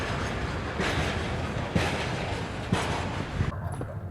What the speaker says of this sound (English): one of the first trains to Armenia passes through this railway via Azerbaijan